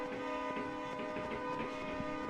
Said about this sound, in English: the train whistle blows and the fireworks go off